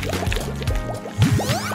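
Water trickles and splashes over a DIY candy machine toy, with wet dripping, gurgling and squishy bubbling sounds close up, turning busier and louder near the end.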